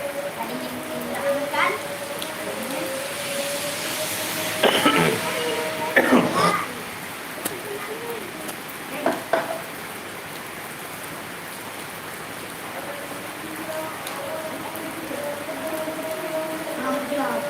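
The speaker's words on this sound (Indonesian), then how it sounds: "Hujannya banyak sekali hujan." Heavy rain pours steadily on surfaces, a constant hiss with a few louder knocks and bumps in the middle, while voices talk over it at times.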